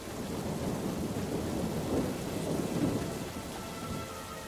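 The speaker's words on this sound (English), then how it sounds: "The storm is done." Thunderstorm with steady heavy rain and rolling thunder in the video game Gothic 3, a continuous dense downpour with low rumbles swelling around the middle, no voices.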